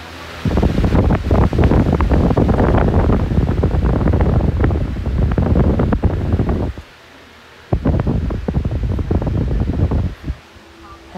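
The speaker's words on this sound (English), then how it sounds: "Fans on in the studio. 12-inch TPI," A 12-inch TPI electric fan runs at full power in a studio, giving a loud, steady broadband rush of air that drops out briefly twice before resuming.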